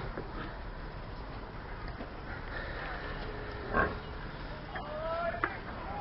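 Pigs grunt and squeal faintly at a distance at a mission hospital in Africa, over steady outdoor background noise, with a couple of louder snorts.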